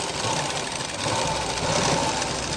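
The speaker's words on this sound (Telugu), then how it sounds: "మార్క్ చేసేసి కుట్టు అనేది తిన్నగా రానివ్వండి" A sewing machine stitches a blouse with a continuous, fast mechanical whirr and a rapid needle chatter. The sound is steady and close throughout.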